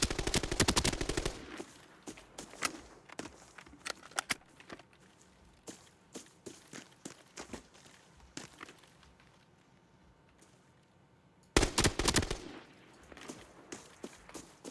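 Bursts of automatic gunfire in a Call of Duty Warzone arena battle royale match, sharp rapid volleys at the start and again near the end, with scattered single shots and footsteps in between.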